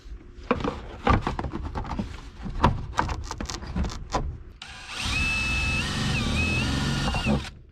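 A power drill bores holes into a speaker mount, short stuttering bursts and clicks at first, then a sustained whining run with the motor pitch wavering as the bit bites.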